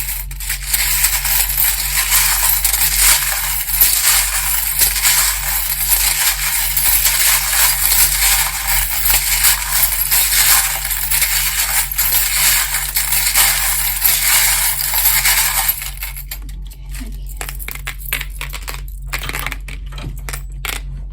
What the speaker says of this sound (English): Don't forget to turn down your volume if you don't like the sound of the charms, because they can be a bit loud.